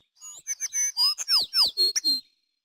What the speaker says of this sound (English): It's a sparrow chirping nearby.